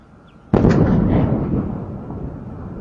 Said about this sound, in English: there was massive explosions that rattled the entire state of South Carolina